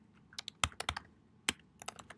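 Quiet keystrokes clatter on a computer keyboard in an irregular burst of separate taps and short clusters, close by in a calm classroom, with no one speaking.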